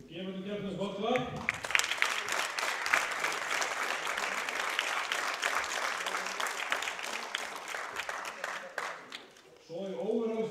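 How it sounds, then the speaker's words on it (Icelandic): Audience applause for competitors at the Icelandic deadlift championship: sustained, dense clapping from a crowd in a hall, loud and even for about eight seconds, with a voice speaking just before it starts and again as it fades. "Við gefum til keppnins gott klapp."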